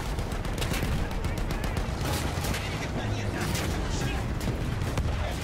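Dense, rapid gunfire rattles continuously from a tank in a Battlefield 1 battle, loud and close, with voices talking over the shooting.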